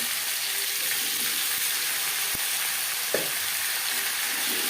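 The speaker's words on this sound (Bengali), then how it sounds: "আলুর সাথে পেঁয়াজ টমেটো বেশ ভালো করে মিক্স করে দেবো" Potatoes with onion and tomato frying in a pan, giving a steady loud sizzle, with a couple of faint spoon knocks and scrapes as they are stirred, close up and with no talk.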